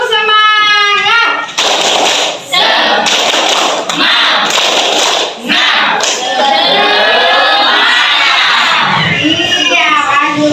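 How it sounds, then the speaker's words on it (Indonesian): A group of schoolchildren performs a rhythmic spirit clap chant in a classroom, loud bursts of clapping and shouted chanting in a steady pattern, with a teacher's voice briefly at the start. "Oke, kita lakukan tepuk semangat ya anak-anak."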